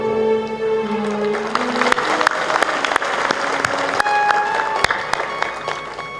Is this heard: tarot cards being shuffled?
no